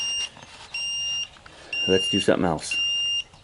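A Cub Cadet lawn tractor showing an E3 error code gives a sharp electronic beep in three evenly spaced bursts, each about half a second long, while a person talks between and over the later beeps.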